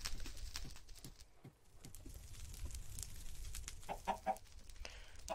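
Chickens in the video game Minecraft cluck in short, soft, scattered bursts, with louder clucks toward the end over light pattering game noise.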